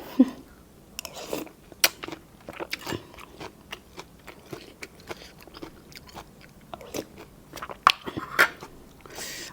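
Someone eats khao pun rice noodles at a village merit-making feast, with close, irregular chewing and biting sounds and small crunchy snaps scattered over a quiet background.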